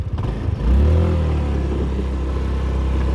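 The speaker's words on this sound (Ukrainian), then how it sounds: "Заводиться по-хондовськи беззвучно." A Honda PCX 125 JF28 scooter engine starts with a short clatter, then settles into a low, steady idle rumble, close and fairly loud, with no talking.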